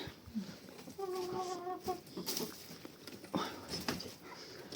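A hen clucks a few times at close range, a short series of pitched clucks over rustling farmyard background noise.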